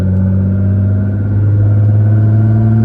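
A 1300 HP Nissan GT-R with a 6-speed gearbox drones loudly from inside the cabin while driving, a deep, steady engine rumble holding an even pitch throughout, no talk.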